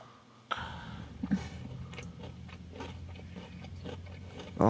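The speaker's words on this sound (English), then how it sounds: "stop chewing" A person chews food noisily and close to the mic, with wet crunches and irregular smacking bites that go on over several seconds against a quiet room.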